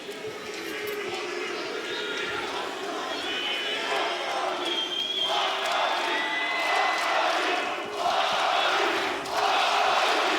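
A large esports arena crowd roars and cheers continuously during a Counter-Strike match between MOUZ and Astralis at PGL Cluj-Napoca 2025, with swelling waves of noise while casters talk over it.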